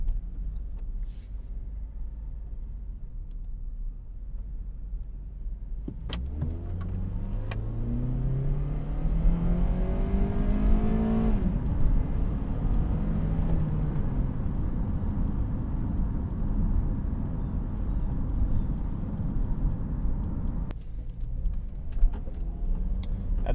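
Cabin of a 2010 Honda CR-V with about 217,000 miles, accelerating from 10 to 50 mph: a steady road roar, then the engine note climbs through the gears and settles into a loud, constant drone.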